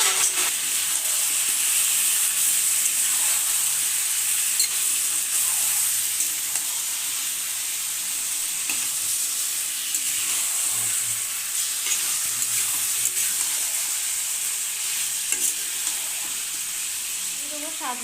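Marinated chicken fries on lightly browned onions in a pan, a loud steady sizzle with stirring scrapes throughout, under quiet talk.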